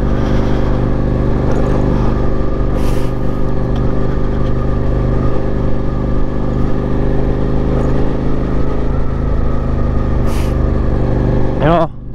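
Suzuki SV650 motorcycle engine droning steadily while riding on an empty early-morning road, loud and continuous throughout with layered harmonic hum and wind, and a brief rev change near the end.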